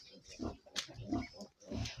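Adult pigs on a farm with poultry grunt in short, rough bursts, several close-by oinks following one another in quick succession.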